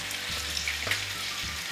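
Potatoes and vegetables frying in a pan for a healthy breakfast, a steady close sizzle with a low hum underneath.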